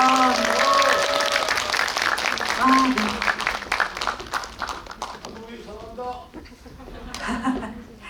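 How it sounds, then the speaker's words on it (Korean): Audience applause in a cinema as a director and actors come on stage for a guest visit, loud dense clapping mixed with cheers and laughter that gradually thins out, with voices speaking over it. "여러분들 큰 박수 부탁드릴게요."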